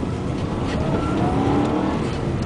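A rally car drives on an ice track at Livigno. Its engine makes a loud, steady drone close by, with a slight rise and fall in pitch and no voices.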